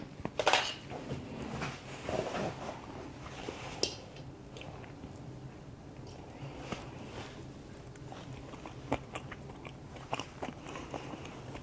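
Someone eating smoky bacon potato salad up close, with soft wet chewing and crunching bites, a few louder clicks and crackles in the first seconds, then quieter mouth sounds with no talking.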